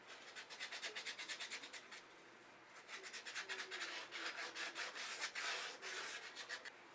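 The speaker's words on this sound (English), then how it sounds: "And now for a bit of hand sanding on the inside edges." Hand sanding the inside edges of a turned wooden shawl ring, a steady run of quick rhythmic rubbing strokes, close and fairly quiet, pausing briefly before picking up again.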